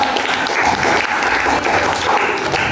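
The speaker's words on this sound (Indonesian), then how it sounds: "tepuk tangan untuk kita semua" A class of students applauds together, a dense, even roar of clapping that holds steady and loud for its whole length.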